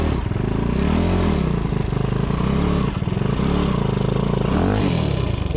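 Restomodded Honda Trail 70 CT70 motorcycle with a 190cc engine revving hard and riding off-road, close and loud, with steady engine drone and rising and falling pitch as the throttle opens and eases.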